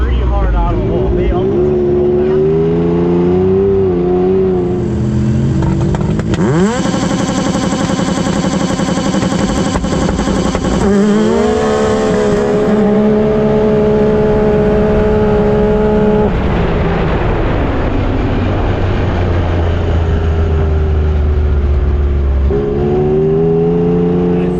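A Cadillac fitted with a cheap 4.8L engine and paddle tires launches at the drag strip with its wheels spinning. The engine roars loudly and rises and falls in pitch in several surges, with voices talking nearby.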